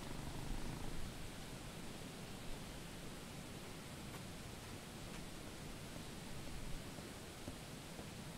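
In the video game The Little Acre, a cat purrs in a soft, continuous, low rumble that stays faint and steady throughout with no other sounds.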